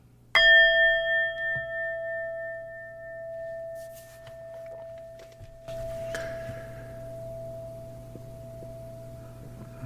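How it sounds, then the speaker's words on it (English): A single meditation bell is struck once, ringing out clearly and then fading in a long, pure sustained tone with soft room noise beneath. "do a little short guided meditation, and I'll sound the bell."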